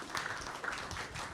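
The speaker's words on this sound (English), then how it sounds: "Round of applause for them." Audience applause at a live footy broadcast event for AFL clubs, a steady wash of clapping heard at moderate distance, fairly faint and continuous without a clear rhythm.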